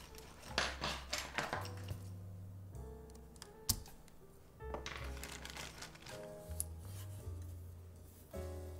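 Clattering keystrokes on a Keycult No.2/65 mechanical keyboard, bursts of quick, close typing with pauses between runs, a few sharper clacks standing out, no voice over it.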